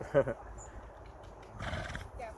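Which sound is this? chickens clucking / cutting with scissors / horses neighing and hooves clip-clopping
horses neighing and hooves clip-clopping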